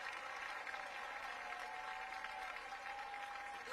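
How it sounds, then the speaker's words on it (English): Crowd cheering and applauding at a college softball game between Oklahoma and Iowa after a bunt is fielded and thrown to first, a steady, fairly faint roar lasting throughout with no talk. "The crowd roars."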